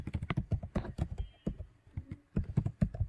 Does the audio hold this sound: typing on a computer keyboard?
yes